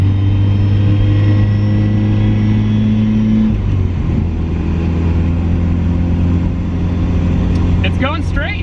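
A turbocharged Mazda Miata drives along with a steady, loud engine drone that shifts pitch partway through as the car changes speed, and a faint squeal rises near the end.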